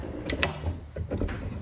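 A wrench ratchets on the wheel nuts of a Coolster 125cc ATV, giving a short close run of clicking pawl ticks followed by a few softer metallic turns.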